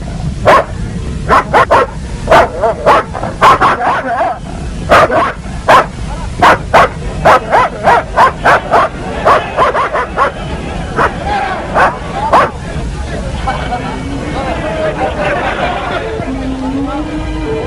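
Sharplaninac sheepdogs in a courage test bark loudly and rapidly in bursts, some of them yipping. Barking dominates the first twelve seconds, then gives way to whimpers and background crowd noise.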